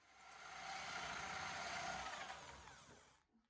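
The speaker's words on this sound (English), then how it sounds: "I'm starting by drilling into the side of the board with a spade bit" A power drill with a spade bit boring into the side of a wooden board, a steady whirring grind that swells and then winds down at the end, recorded close and fairly faint.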